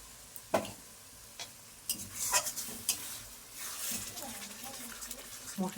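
Chicken and spices fry in oil as a spoon scrapes and stirs the pan, with clinks against metal over a soft sizzle. Quiet talk runs intermittently underneath.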